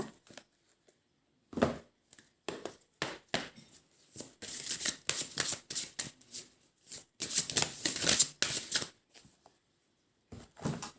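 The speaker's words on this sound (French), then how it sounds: "je vais prendre une carte aussi conseil dans l'oracle des fées" Oracle fairy cards shuffled and drawn by hand, a run of soft papery riffles and slaps in irregular bursts with short pauses, close and fairly quiet, with no talking.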